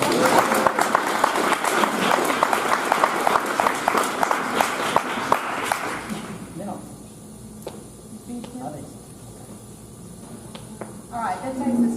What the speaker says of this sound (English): Let's have one more round of applause for Nolan.